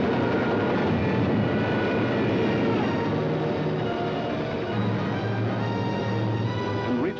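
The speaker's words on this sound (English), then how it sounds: "Some of the German bombers broke through London's defenses." Droning engines of German bombers from a 1943 wartime film, passing over London during a raid, a dense steady roar that stays loud throughout with no voices.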